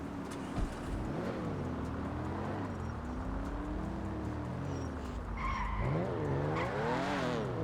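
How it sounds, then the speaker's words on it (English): A car drives past nearby, its engine droning and tires squealing and skidding as it swings around a corner, with the engine pitch rising and falling and staying loud throughout. "That car just pulled by and just like tucked to that corner right there."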